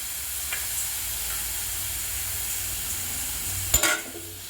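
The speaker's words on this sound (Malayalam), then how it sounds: "ഉള്ളിയും ഇഞ്ചി വെളുത്തുള്ളി പേസ്റ്റും കൂടി ഇട്ട് നമുക്ക് പച്ചമണം പോകുന്നത് വരെ നമുക്ക് ഒന്ന് വഴറ്റിയെടുക്കണം" Onion and ginger-garlic paste sautéing in a pan, a steady close sizzle and hiss with a brief stir or scrape near the end, no voices.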